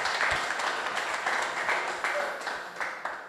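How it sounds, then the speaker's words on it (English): Participants at a rule of law webinar give a round of applause, steady moderate clapping from a small group that holds evenly and tapers slightly toward the end. "we all deserve another round of applause."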